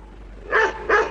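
A Doberman gives two sharp, close barks in quick succession during an attack in a dramatic film scene.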